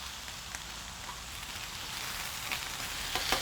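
Sausage, peppers and onions sizzle on a grill with a steady, crackling hiss and occasional sharper pops, close and moderately quiet, with no talking.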